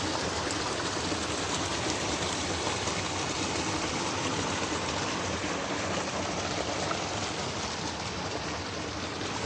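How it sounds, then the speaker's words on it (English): A mountain creek flows along a Wyoming trail, a steady broadband rushing of water filling the whole stretch evenly and close by, with no talk over it. "But there's this beautiful creek."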